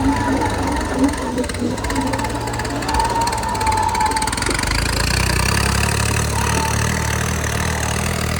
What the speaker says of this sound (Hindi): भाई ट्रैक्टर की पूरी पावर लगा रहा और गाड़ी भी